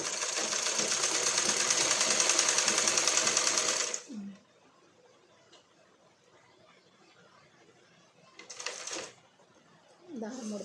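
A sewing machine runs steadily, stitching lining fabric in one loud continuous burst for about four seconds, then stops; a short second burst and faint handling sounds follow as a voice talks briefly.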